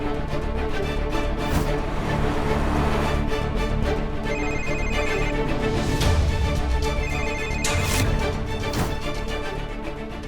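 A telephone rings out on an outgoing call to someone who doesn't pick up, a steady repeating ring-tone pattern filling the line over a dense background of layered sound throughout.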